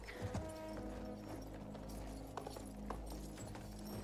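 Horse hooves galloping in the Battlefield 1 video game, a steady drumming clip-clop under a constant low rumble of game ambience and music, with no talking.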